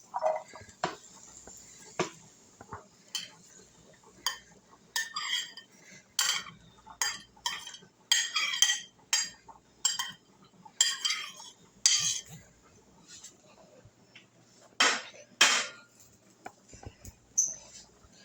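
Vegetables for a vegetarian lasagna are added to a pan and moved around with a utensil, giving a series of sharp, close clinks and scrapes at irregular intervals over a quiet background.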